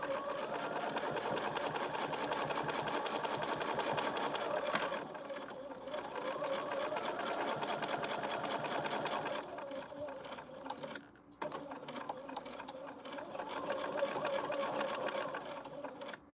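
A sewing machine sews a zipper pencil case in a long continuous run of fast, even stitching, pausing briefly near the end and then restarting for a backstitch, fairly quiet and close.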